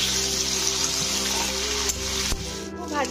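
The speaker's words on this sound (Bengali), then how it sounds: "আলুগুলোকে তেলের মধ্যে প্রথমে একটু লাল লাল করে ভেজে নিতে হবে" Large potato pieces frying in hot oil for a no-onion, no-garlic chana masala, a dense continuous sizzle close by with a couple of sharp clicks near the end and no talk.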